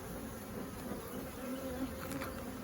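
Angry honey bees drone in a dense, steady buzz around a single brood chamber hive, close and continuous without a break, and no one speaks.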